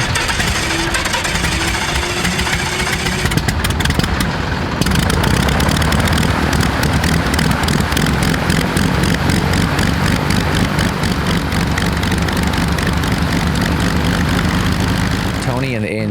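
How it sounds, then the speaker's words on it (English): A small propeller plane engine roars loud and close during a full-throttle run-up for final checks, its pulsing drone rising in intensity partway through and staying strong to the end. "ran the plane up to full throttle to do some final checks"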